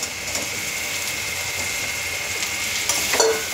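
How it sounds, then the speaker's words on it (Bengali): Fried elephant foot yam and potato go into a hot spice paste in oil, giving a steady, fairly loud sizzle with a few utensil clinks and scrapes near the end. "এই পর্যায়ে আমার ভেজে রাখা ওল আর আলুটা আমি দিয়ে দেবো।"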